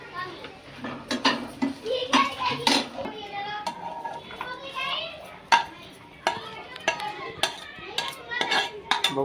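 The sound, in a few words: transferring fried vegetables onto a plate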